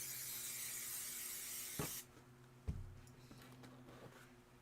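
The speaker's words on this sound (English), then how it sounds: "I'm going to give this a spray too." An aerosol spray can hisses in a steady, close burst onto fabric for an embroidered pillow, followed by a couple of soft handling thumps and light rustling.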